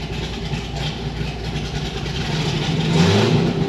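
A Chevrolet Corvette C6 Z06 with a stage 4 cam package, Cook's headers, a Corsa air intake and an MSD ignition revs through a pull, the loud engine climbing steadily in pitch and volume close by.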